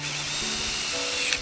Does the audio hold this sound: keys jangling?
no